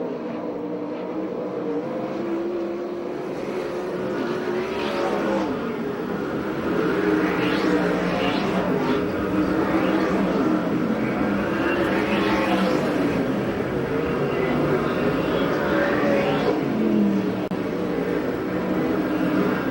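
USAC/CRA sprint cars race laps at Perris: a loud, continuous engine roar rises and falls in repeated sweeping passes as the cars come by, with no clear talk over it.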